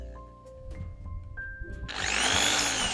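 A power drill clears rivet holes in the hood frame of an MGB convertible. After a few faint taps and soft tones, the drill whirs up loud and close and keeps running to the end.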